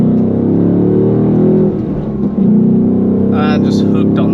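A Ford Mustang Dark Horse engine rumbles steadily up close with a throaty low drone, dipping briefly midway before swelling again, while a faint high chirp appears near the end.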